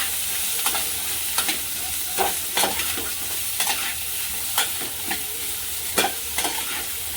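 A spoon stirs a handful of asafoetida into amla chutney in a hot pan, giving a steady soft sizzle broken by repeated scraping clicks of the utensil against the pan, close and moderately quiet.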